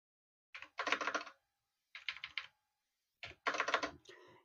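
Fingers type an amount on a computer keyboard for SBI net banking, three quick bursts of close, crisp key clicks separated by short pauses.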